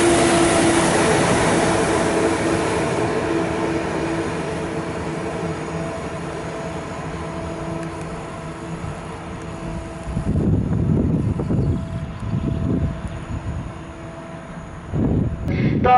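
Electric multiple unit trains rumble and hum along a platform at Łowicz Główny station, Poland, a steady drone with rising motor whine, joined later by heavier rolling clatter and thuds.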